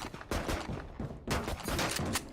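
Sheriff pistol shots in a competitive Valorant-style match, a few sharp, loud bursts in quick succession with brief gaps between them.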